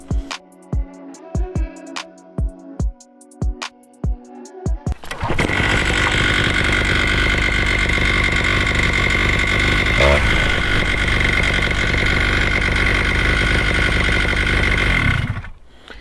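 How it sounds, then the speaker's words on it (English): A Vittorazi Moster paramotor engine, just after its low needle is adjusted, begins with a few sharp clicks and knocks. It then runs steadily at a loud, even drone for about ten seconds before cutting off. "Now the engine was reactive"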